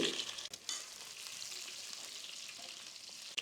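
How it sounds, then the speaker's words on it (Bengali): Crushed garlic sautés in hot oil left from frying chicken for a Chinese-style broccoli chicken dish, a soft, steady sizzle with a couple of brief knocks as it is stirred, no voices. "গার্লিকগুলো তিরিশ থেকে চল্লিশ সেকেন্ড একটু সতে করে নেবেন"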